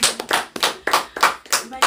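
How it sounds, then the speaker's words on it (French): A church congregation claps in rhythm after a prayer, loud close hand claps in a steady repeated beat, with voices mixed in. "Applaudissons pour la phrase"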